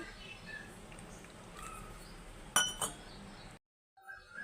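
Ginger garlic paste being stirred with water in a bowl, giving a few soft clinks of a spoon against the dish over a quiet kitchen background, then a brief silence.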